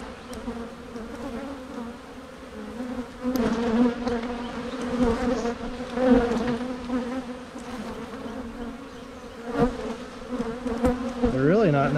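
Honeybees swarm and buzz around an open hive outdoors, a dense continuous hum with individual bees droning close by at varying loudness.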